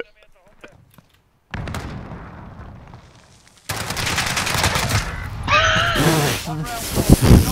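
Gunfire bursts from a shooter video game crackle loudly in rapid volleys, mixed with excited shouting from several players talking over the shots.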